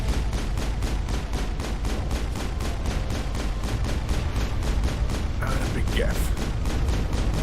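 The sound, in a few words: pistol gunfire in Mass Effect video game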